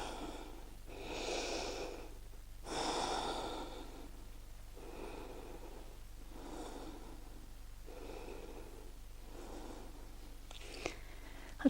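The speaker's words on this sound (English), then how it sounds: "Taking a few breaths." Slow deep breaths taken while resting in a yoga pose, a series of long audible inhales and exhales through the nose in an even rhythm, close and quiet with no talk.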